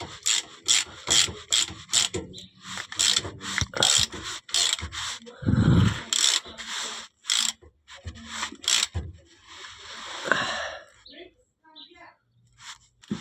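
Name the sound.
ratchet tightening differential plug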